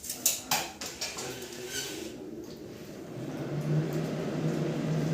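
An electric water pump starting up in auto mode under VFD control, with a few clicks and knocks early on, then a low motor hum and whir that rises and swells steadily as the pump comes up to speed.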